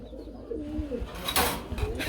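Pigeons kept for sale in a bird market cooing nearby, a few soft throaty coos over a low murmur of background voices.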